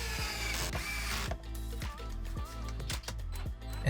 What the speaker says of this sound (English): here I'm pre-drilling the holes for the stove slide out.